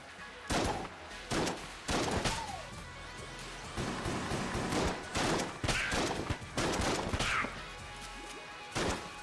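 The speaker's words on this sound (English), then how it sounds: "The bullets are hitting Space Friend and then bouncing" Rapid bursts of video game gunfire from Enter the Gungeon, with bullets striking and bouncing off a companion character, arriving as repeated sharp volleys and crashes across the whole stretch with no talking.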